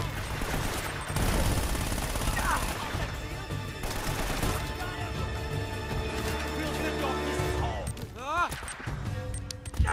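Rapid Uzi bursts in Uncharted multiplayer, dense rattling automatic fire with sharp cracks and impacts nearly throughout, mixed with game effects and talking.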